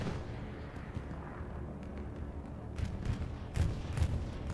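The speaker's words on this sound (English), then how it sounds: "We got a bombing run coming in, I think, for MERC." Bombing run explosions in the Hell Let Loose video game, a rumble of distant, muffled booms that grows toward a few heavier thumps near the end.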